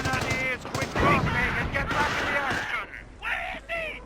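Sniper rifles firing during a real-time strategy game tournament match, a couple of sharp pops breaking through steady commentator talk.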